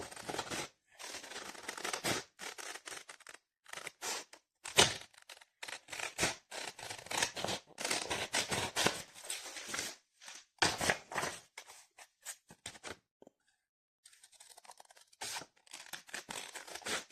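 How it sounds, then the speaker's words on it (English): Repeated close-up snips and crisp paper rustling from scissors cutting out a paper leaf shape, coming in irregular bursts with brief pauses, with no talking. "Now I'm going to cut it out."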